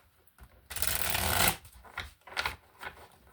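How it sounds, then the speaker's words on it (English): A deck of angel tarot cards is shuffled by hand, a close, dry riffling rush lasting about a second, followed by a few softer flicks and taps of cards. "let's shuffle this one more time."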